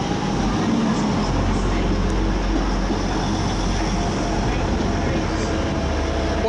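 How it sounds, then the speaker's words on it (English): Class 185 diesel train departing Manchester Piccadilly for Manchester Airport, a steady low engine rumble and wheel noise filling the station, loud and continuous throughout, with no talking. "Meanwhile, that 185 to Manchester Airport is about to leave."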